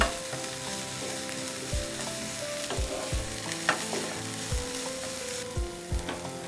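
Red capsicum sautés in a pan with a continuous close sizzle, punctuated by repeated low knocks and scrapes from stirring.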